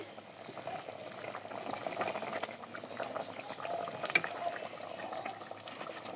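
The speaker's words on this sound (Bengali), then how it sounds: "অনেক বড় রূপচাঁদা মাছের মাথা আর পেটের পিস আছে কিছু এটা দিয়ে ডাল রান্না করতেছি" A pot of ground maskalai dal cooks with a large rupchanda fish head and belly pieces, boiling with faint, soft, continuous bubbling and occasional small pops.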